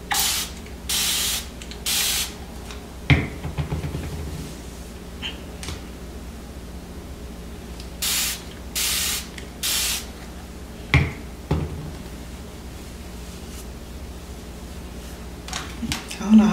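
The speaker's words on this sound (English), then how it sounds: "I don't know how much you gotta spray." Spray bottle misting hair while sisterlocks are styled into loop curls, giving several short hissing spritzes in uneven bursts, close up, with a few taps and handling clicks between them.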